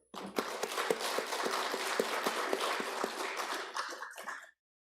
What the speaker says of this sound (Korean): 박수 한번 치고 가죠